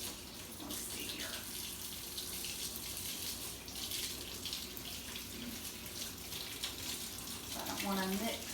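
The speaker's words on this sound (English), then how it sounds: "let's wash these off real quick" Mixer beaters rinsed under a running kitchen tap, a continuous steady splash of water filling the sink with occasional light clinks near the end.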